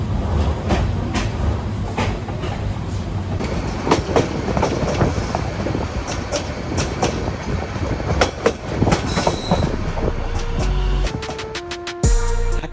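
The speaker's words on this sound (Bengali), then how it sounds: "আমাদের ট্রেন তুমুল গতিতে এগিয়ে চলছে চট্টগ্রামের উদ্দেশ্যে" The nonstop Sonar Bangla Express from Dhaka to Chittagong runs at speed, a loud, continuous rumble from inside the carriage with rhythmic clickety-clack over rail joints, rattling fittings and occasional sharp knocks.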